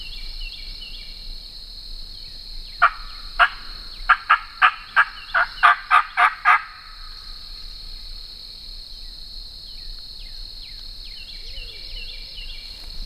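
Wild turkeys gobble during a Georgia spring hunt, a burst of rapid gobbling rolls out in a quick series of about ten notes at moderate distance, over a constant high insect drone.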